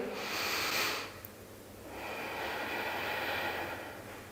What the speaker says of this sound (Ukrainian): Робимо вдих.